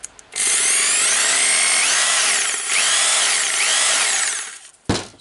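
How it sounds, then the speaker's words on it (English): Makita HR2611FT rotary hammer drilling in hammer mode, a loud, close, steady hammering whine running for several seconds with slight pitch dips, then cutting off with a sharp knock. "Now drilling with a hammering mode."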